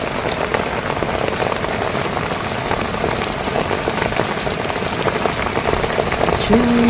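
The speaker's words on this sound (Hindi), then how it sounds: "सब्जी की, बहुत तेज़ बारिश हो रही है, बहुत तेज़।" Heavy rain pours down continuously on a rooftop, a dense loud hiss of drops pattering on surfaces with no letup, close and enveloping.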